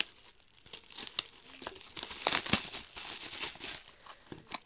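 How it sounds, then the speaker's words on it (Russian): Bubble wrap packaging being opened and handled up close, soft crinkling and rustling with a few sharper crackles and tearing sounds in the middle, fairly quiet overall. "откроем пупырку"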